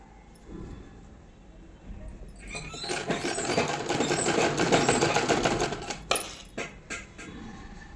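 A sewing machine stitches a sleeve onto a boy's night suit, running in a steady rattling burst that builds in the middle and tails off with a few clicks, close by with no talk.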